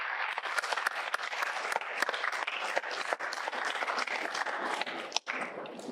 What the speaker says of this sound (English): I definitely call for a big round of applause from your own side for yourselves.